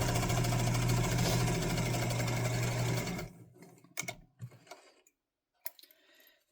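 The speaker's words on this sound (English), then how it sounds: "Finger press that, and then I'm going to stitch" A sewing machine stitching a zipper pouch runs loud and steady with a fast mechanical hum for about three seconds, then stops, followed by a few quiet handling knocks and rustles.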